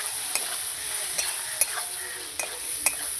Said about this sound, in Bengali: এবার আমি ভালো করে মশলাটা মেটে আলু একসঙ্গে কষবো